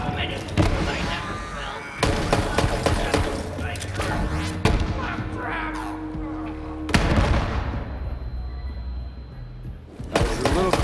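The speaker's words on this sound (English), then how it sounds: "With homing rockets." Homing rockets fire in a video game as a run of loud booms and thudding impacts, with a few sharp bursts standing out, while players talk over the action.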